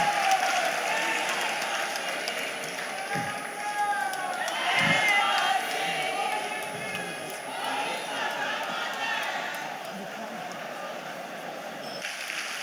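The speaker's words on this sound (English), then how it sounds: "Please put your hands together for His Excellency, Governor Akinwumi" A large audience applauds the governor at a church convention, a continuous wash of clapping and cheering that holds steady throughout with a few faint shouts mixed in.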